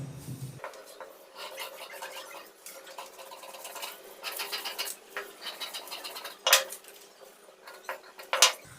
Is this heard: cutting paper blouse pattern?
yes